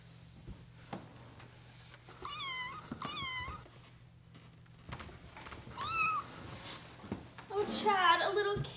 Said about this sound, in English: Oh, Chad, a little kitty.